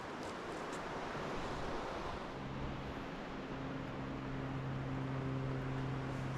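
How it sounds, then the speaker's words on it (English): Creek water rushes over rapids at Muddy Creek as a steady, broadband roar, continuous and moderately loud with no voices, while a faint low hum drifts in partway through. "this is Muddy Creek, starting to hit the rapids here"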